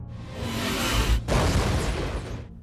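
A huge explosion from a monster film as Peng Yon blows up the Tao-Ti creature, a loud roaring boom with a brief cutoff and then a second rumbling burst that fades out.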